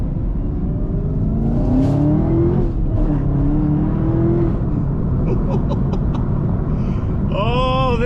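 A Chevrolet Camaro ZL1 with manual transmission accelerates hard in first gear, its engine note climbing loudly and steadily from inside the cabin, with a brief shift dip and an excited voice shouting over it.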